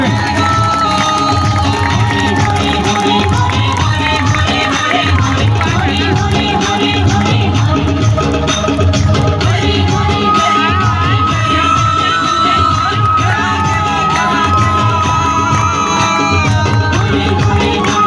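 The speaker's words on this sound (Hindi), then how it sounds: "बहुत जोरदार तालियों से स्वागत करें" A large crowd of children and adults cheers and claps loudly and steadily at a celebration for children with disabilities, welcoming a girl, with shouts and whoops over the continuous noise.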